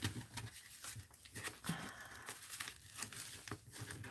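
Taped-down paper pulled free from an art journal page, soft crinkling and tearing rustles in short irregular bursts, quiet and close.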